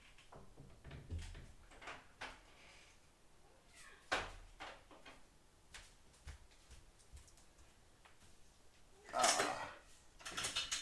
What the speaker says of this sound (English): Kitty's yelling at me.